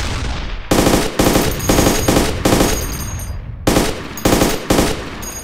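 Heavy weapon fire in the ArmA 2 combat game, including an anti-tank gun: loud, repeated booming bursts of shots with ringing decay between them, near and dominant.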